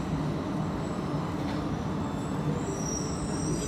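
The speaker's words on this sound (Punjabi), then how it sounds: "ਮਿਊਨਿਕ ਏਅਰਪੋਰਟ ਦੇ ਅੰਦਰ ਹੀ ਟ੍ਰੇਨ ਹੈਗੀ ਹੈ" The airport train running inside Munich Airport toward Terminal 2: a continuous, even rumble of the rail car with a faint high whine of the wheels over the whole stretch and no voices.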